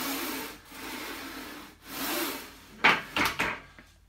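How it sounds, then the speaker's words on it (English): Metal ball bearings roll back and forth inside a linear bearing on a BodyCraft F660 leg press/hack squat machine, a gritty rushing swish in repeated strokes, followed by a few sharper clicks and scrapes. "That's those ball bearings rolling."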